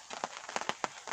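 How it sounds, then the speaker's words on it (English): Rain falls outdoors with a soft, quiet patter, scattered drops ticking in irregular bursts over a faint background. "and it's very rainy."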